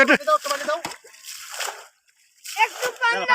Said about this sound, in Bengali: পানি সেচার এক অপরূপ দৃশ্য